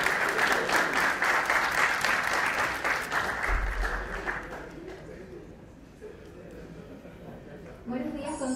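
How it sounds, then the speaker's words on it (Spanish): Audience applause welcoming a speaker at a national telecommunications day event, a dense wash of clapping that fades out midway, followed by quieter room sound and a voice starting to speak. "Recibámosla con un aplauso, por favor."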